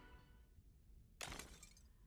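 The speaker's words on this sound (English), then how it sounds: "Just broke through the glass." Glass breaking in the video game CrossCode: after a quiet, low game background, a single sudden bright shatter bursts in and rings briefly with scattering shard tails before fading back under the soundtrack.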